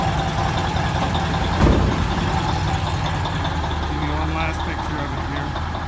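A 1981 Peterbilt 359 extended-hood truck with a 3408 Cat engine idling nearby, giving a steady low, throbbing rumble with one brief louder surge partway through.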